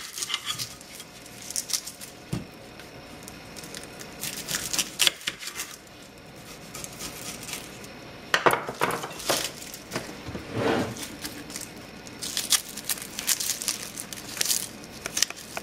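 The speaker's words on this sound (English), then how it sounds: "I'm going to cut up my onions." A knife slicing onions into long strips on a board: irregular chopping taps and crisp crunchy cuts, some in quick bursts, fairly close and with no talking.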